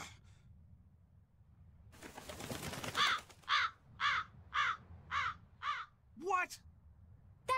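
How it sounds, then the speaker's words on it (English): Crow cawing in the video game Tales of Berseria: a series of six or seven loud, evenly spaced harsh caws, close by, following a brief burst of noise. "That crow just flew off with the coin!"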